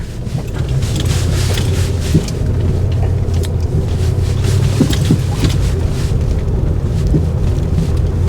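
A 1998 Jeep Grand Cherokee 5.9 ZJ driving along an off-road trail, heard from inside as a steady low engine and road rumble with wind buffeting and occasional light knocks from bumps, continuous and fairly loud.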